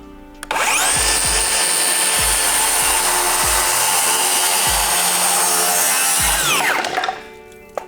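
A circular saw makes a 45-degree bevel cut through wood, spinning up loudly and holding a steady high whine through the cut before winding down, with repeated low knocks beneath it.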